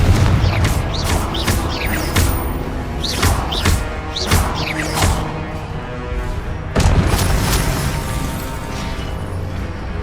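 Repeated Confringo fire spell blasts in Hogwarts Legacy, a string of sharp booming bursts with crackling tails spread across the stretch, one heavy impact near the end, over constant game ambience, no talking.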